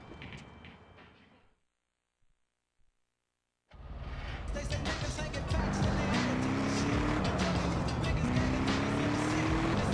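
In GTA San Andreas, a car engine starts up after a short silence and settles into a loud, steady drive, with the revs rising and shifting as it pulls away.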